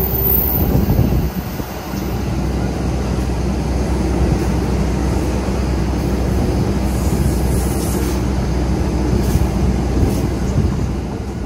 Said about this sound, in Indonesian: Masuk di jalur 3, rangkaian Argo Dwi Pangga.